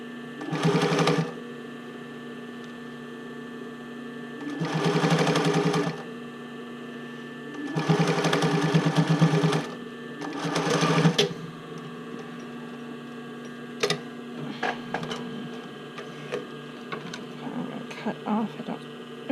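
Domestic sewing machine stitching bra cups into the band, running in four short bursts of steady whirring separated by pauses, followed by small clicks and fabric handling over a faint mains hum.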